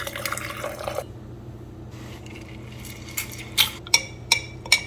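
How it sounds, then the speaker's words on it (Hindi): Hot water is poured for a honey and lemon drink: a brief splashing pour at the start, then a quiet pause, then a few sharp, close drips or clinks near the end. "तो बस पानी डालो गरम"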